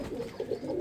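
A pigeon coos softly in a brief, low, throaty burble of a few pulses, close by and faint.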